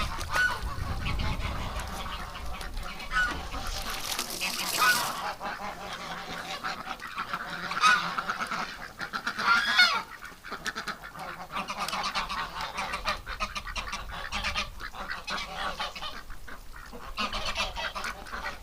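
A flock of ducks and geese in a frozen winter pen keeps up steady honking and quacking, a busy mix of nearby and more distant calls running throughout.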